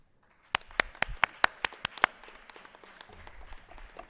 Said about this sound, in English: would all the veterans in the audience please stand up and let's give them a round of applause